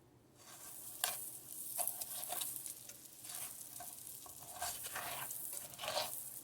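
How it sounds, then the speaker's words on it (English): Butter melts and sizzles in a pan reused from sautéing green onions and garlic, a soft steady hiss broken by several spatula stirs and scrapes, fairly quiet and close. "Get that butter nice and melted"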